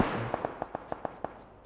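About eight sharp, distant gunshots in a video game crack in a quick, uneven series over a fading rumble, with no voices.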